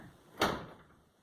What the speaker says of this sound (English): my child is slamming doors for some reason.